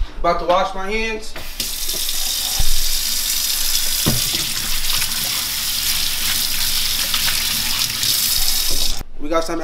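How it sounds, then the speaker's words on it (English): Tap water runs steadily into a kitchen sink while hands are washed before cooking, a loud continuous hiss and splash that starts after a few seconds of speech and cuts off near the end. "about to wash my hands"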